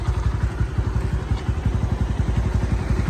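A Honda Winner X motorcycle engine idles close by, a steady fast thumping putter with an even rhythm throughout and no voices over it.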